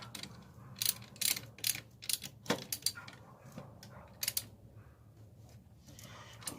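Ratchet wrench tightening the alternator nut on a 2001 Chevy Blazer 4.3 4x4, quiet bursts of rapid clicking in short uneven strokes with pauses between.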